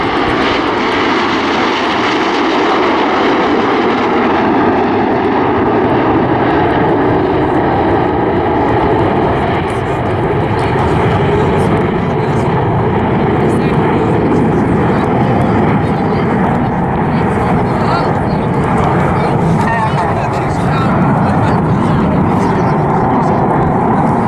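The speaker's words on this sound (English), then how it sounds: "you have seen some graceful formation flying involving 7 aircraft" RAF Red Arrows jets flying in formation at Southport Airshow, a loud sustained engine roar filling the whole stretch, with a commentator speaking over it.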